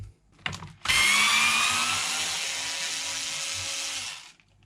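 A power screwdriver running on Torx T15 screws of a Bosch Powerpack 400 battery, a short knock, then one sustained high whine lasting about three seconds before stopping, close and loud.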